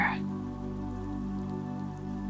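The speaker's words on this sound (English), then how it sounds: "They are waiting for the rain to get a little lighter." Rain falling in a children's bedtime story: a brief brighter hiss at the start, then a steady, even patter of rain that continues unbroken at moderate volume, with no voices.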